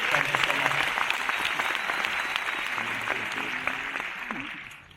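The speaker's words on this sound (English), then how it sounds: "can we give them a round of applause as well?" Audience applause fills an auditorium at a small-business summit in Cape Town, a dense, steady clapping from a large crowd that holds strong throughout and tapers slightly at the end, with a few voices mixed in.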